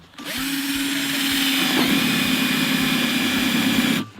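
A power drill whirs loudly and continuously for a few seconds boring air holes in a box, a steady high-pitched motor whine that starts and stops abruptly.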